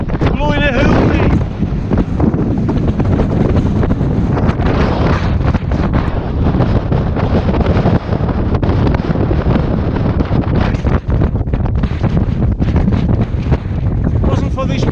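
Strong gusty wind buffets the microphone on the exposed summit of Curleywee in Galloway Forest Park, a loud, continuous roar with rushing bursts throughout.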